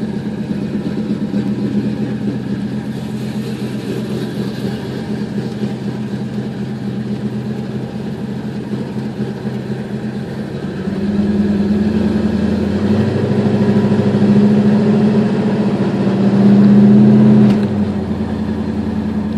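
A 1969 Chevrolet Chevelle engine runs with a loud, steady, rumbling idle, then rises in pitch and volume twice as it is revved or driven off.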